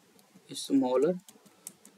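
Computer keyboard typing while writing Java code, sparse key clicks around a short stretch of voiced speech in the middle, fairly quiet and close.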